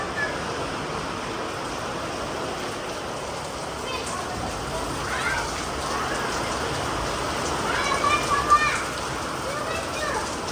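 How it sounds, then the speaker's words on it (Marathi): Heavy rain pours down in a dense, steady hiss, close and loud, with faint voices under the downpour. "ओय लय पाऊस आला लय मोठा आला"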